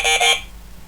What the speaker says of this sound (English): So I'll just turn the alarm on.